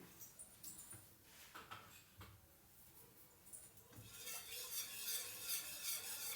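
Gram flour kadhi stirred steadily in a pan, soft scraping and patting strokes repeating close by, growing busier and louder toward the end, with no talk.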